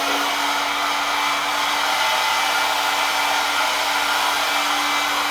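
Heat gun blowing steadily over bent mountain bike parts from a crashed bike, a constant close airy roar with a fixed hum, running unbroken with no talk.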